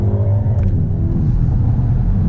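A 2022 Hyundai Elantra N accelerates hard with its engine at full throttle, a loud, close, steady low-pitched roar rising through the revs, with no talking over it.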